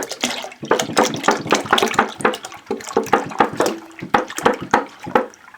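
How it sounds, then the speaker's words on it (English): Milk pours from a gallon jug into a pot, a close, gurgling splash that pulses unevenly as the jug glugs, with no voices. "I'm going to go ahead and add the rest of the milk"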